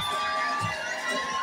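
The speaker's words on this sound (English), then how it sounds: "I want to hear the parents cheer them up." Parents cheering at a school sports day race, with a dense crowd of shouting voices and some children's calls blending into a continuous loud roar.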